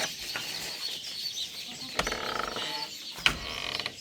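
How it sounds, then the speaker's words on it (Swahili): Chickens being fed at a rural homestead cluck softly against a steady outdoor background, with a few sharper clucks and one brief wing flutter, close by. "Kuku zinapewa food hapa."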